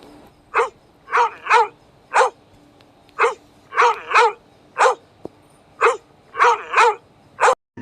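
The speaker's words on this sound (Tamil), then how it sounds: "நாய்க்குட்டி பேசுறேன். நான் இப்படிதான் கத்துவேன்." A puppy barks in about a dozen sharp, close yips, some in quick doubles, with short pauses between them and nothing else audible.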